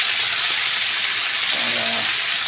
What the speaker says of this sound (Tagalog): Ilagay na natin itong repolyo.